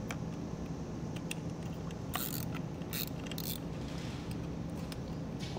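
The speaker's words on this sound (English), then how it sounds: "I'm just going to loosen the nut with a 10 millimeter" A 10 mm wrench loosening a nut on a 2023 Kia during trailer wiring harness installation, a few sharp metallic ratchet clicks over a steady background hiss.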